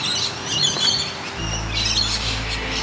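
Australian birds after afternoon rain give bursts of squawking and chirping calls, moderately close, over a constant low rumble in the background.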